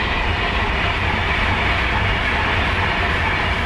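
A train rumbles past close by a canal lock, a loud, steady roar of wheels and carriages lasting throughout with no voices.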